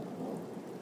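Low, distant rumble of thunder from a lightning strike during an evening thunderstorm, a brief deep roll heard faintly over a soft bed of rain.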